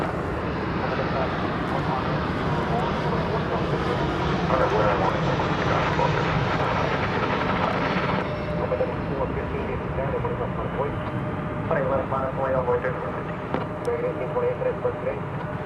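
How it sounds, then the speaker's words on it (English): A Boeing 737-800 airliner arriving at DFW Airport gives a continuous loud engine roar that shifts in tone as it passes, with a commentator talking throughout. "We've got coming in Flight 781 from Querétaro in Mexico, 737-800."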